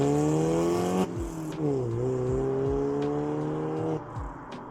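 Close, raspy revving from a 2-litre four-cylinder BMW with a damaged exhaust: a held rev drops, climbs again and holds, then falls away, the harsh buzzy drone heard alone.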